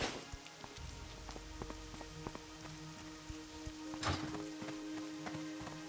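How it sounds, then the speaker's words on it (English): Steady rain falls in World of Warcraft Classic on a rainy night in Loch Modan, a continuous patter broken by a few sharp taps and a brief louder burst near the end, with no talking. "it's a rainy night here in Lochmadan"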